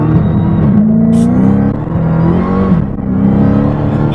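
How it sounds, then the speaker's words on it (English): A Dodge Hellcat launches hard from a standstill, its engine roaring loud and close in a steady, rising rumble for several seconds with no talk over it. "But I want you to try to accelerate as quick as you can from a stop."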